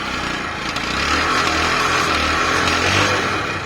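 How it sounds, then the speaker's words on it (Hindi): A 2010 Bajaj Discover 100cc motorcycle engine idles steadily at close range, a continuous buzzing thrum with a low exhaust pulse that holds even throughout. "इसका इंजन का आवाज एकदम सही है"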